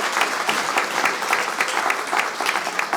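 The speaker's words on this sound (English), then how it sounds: "all of these teammates deserve an incredible round of applause" A crowd claps steadily for a few seconds, a dense patter of hands applauding without cheers, at a community kick-off presentation in Kalamazoo.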